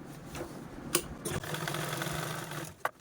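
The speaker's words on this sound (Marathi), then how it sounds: "चला आता आपण स्टिच करून घेऊया यावरती पुन्हा आपल्याला टॉप स्टिच पण देऊन घ्यायची आहे" Sewing machine top-stitching an iron cover bag, a quiet steady mechanical whir with faint rhythmic needle clatter, broken by a few sharp clicks and taps.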